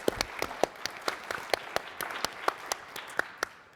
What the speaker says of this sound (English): big round of applause for Josh.